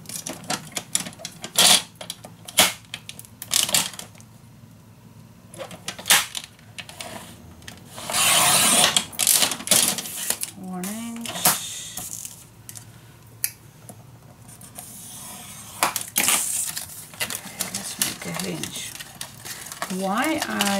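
Paper pages being cut for a traveling 4-in-1 folio made with Ciao Bella papers, giving a run of close, irregular snips and rustles with brief pauses over about twenty seconds.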